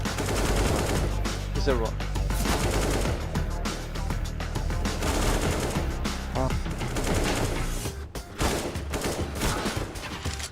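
Rapid, dense AK rifle fire in CS:GO on the Overpass map, near-continuous bursts of sharp shots throughout, with a voice speaking briefly over the gunfire.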